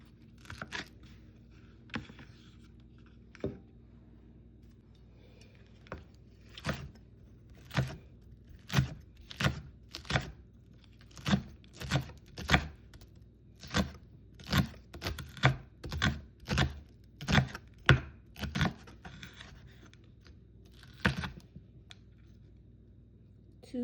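A knife chops vegetables on a cutting board in a home kitchen during cooking. It makes a run of crisp, evenly spaced close-up cuts that quicken into a steady rhythm, then thin out to a few final strikes.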